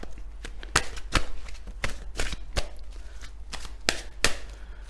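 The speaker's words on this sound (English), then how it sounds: "We'll just shuffle them quickly." Tarot cards are shuffled quickly by hand, giving a close series of sharp riffling snaps and soft shuffles in an uneven rhythm, with no voice.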